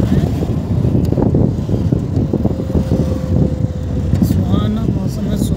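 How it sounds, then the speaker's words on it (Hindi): Strong wind buffets the microphone from a moving vehicle on a cool morning road heading toward a bus stop, a steady, loud, rumbling roar with gusty flapping throughout and no clear speech. "हवा चल रही है"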